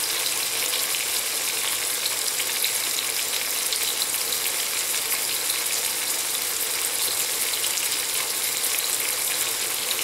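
Chicken and garlic sauté in a hot pan, giving a loud, steady sizzle and crackle that runs without a break from start to finish, with no voices.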